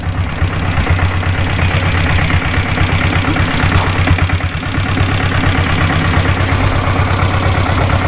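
A Kerala diesel Bullet motorcycle engine with cam noise idles close by with a steady, thumping low rumble and rapid regular knocking pulses, no talking.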